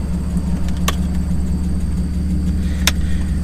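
A car's engine, on a test drive after a slave cylinder replacement, gives a steady low rumble from inside the cabin, with two brief sharp clicks in the background.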